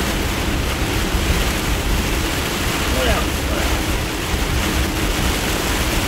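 Heavy rain pours steadily outdoors as a constant, loud broadband wash, with a person talking briefly over it.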